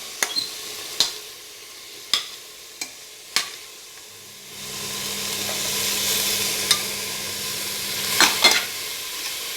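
Plantain pieces go into a hot pan, a few sharp clacks of a spoon against the pan, then a steady sizzle of frying rises as the pieces are stirred, with occasional scraping knocks.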